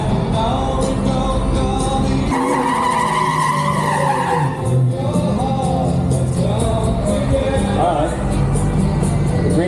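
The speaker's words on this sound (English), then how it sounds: "Green one takes a burnout" A green Dodge Charger does a burnout at a drag strip, its tires squealing and skidding loudly over a roaring engine, with crowd noise and talk around it at the track.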